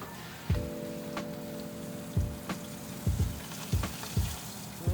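Shallots sweating in a hot pan beside searing salmon, a steady soft sizzle with scattered pops and crackles, close and fairly quiet, without talk.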